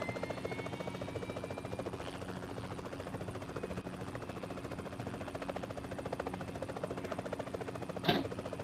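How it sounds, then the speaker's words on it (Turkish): A steady rhythmic helicopter rotor chop with a whining engine hum from PUBG Mobile, constant throughout, with a brief sharp electronic blip near the end. "Helikopter helikopter."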